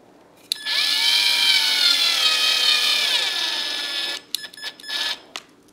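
A power drill drives a screw to fix rubber feet onto the bottom of an alder wood game board, giving one sustained whining run of about four seconds up close, then a few short clunks and a brief spin.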